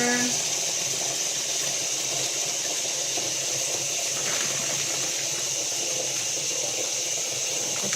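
Water gushes steadily for night-time laundry, a continuous rushing pour like a tap filling a basin, with a voice talking faintly now and then.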